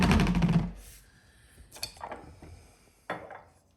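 A spoon stirring shami kabob mixture in an Instant Pot, a loud scrape at the start followed by a few quieter knocks and scrapes against the metal pot, with no talk.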